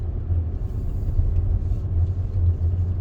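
A car rolls along a winter road in Yellowstone National Park, passing under the arch with a steady, loud low engine rumble and tyre drone inside the cabin.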